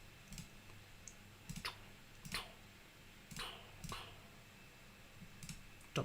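A computer mouse clicks at a desk during a crafting game, about a half-dozen sharp, close clicks spaced irregularly, faint and alone without talk.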